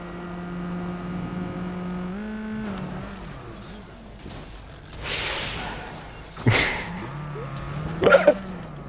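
A car engine in the video game Watch Dogs 2 hums and revs with rising and falling pitch, followed by a few sharp bursts like skids or impacts.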